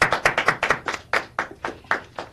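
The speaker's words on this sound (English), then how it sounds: "So can we give them a round of applause?" A few meeting attendees clap in applause, a sparse, uneven series of separate hand claps heard close, with no talk over them.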